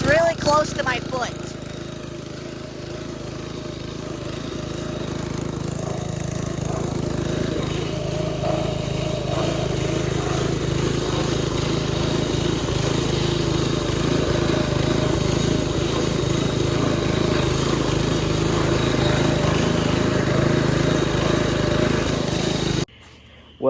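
A riding lawn mower's small engine runs steadily and close by, a continuous rumbling drone with some clattering at the start and a voice talking over it.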